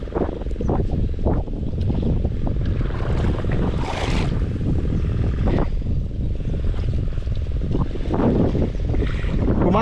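Strong wind over a rice paddy, a loud continuous roar buffeting the microphone, with gusts rising and falling throughout and no clear talk.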